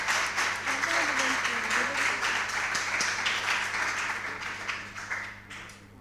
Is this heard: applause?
yes